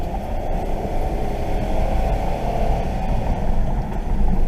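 A 2008 Ford Escape engine with a transmission that won't shift until around 4,000 RPM or higher drones steadily at high revs, a loud continuous roar with some wind noise that keeps building slightly toward the end.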